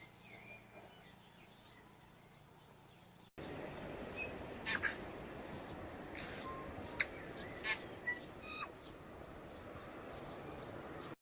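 Birds chirp outdoors around someone reading up in a tree, with scattered short calls and tweets over a steady outdoor hiss, fairly faint and intermittent after a quieter opening.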